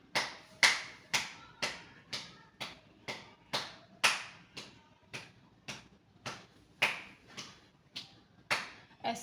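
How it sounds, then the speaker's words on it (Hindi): Hands clapping behind the back during a chest exercise: a steady series of about eighteen sharp, close claps at an even, brisk rhythm, alone with no talk. "पीछे की तरफ ताली मारनी है"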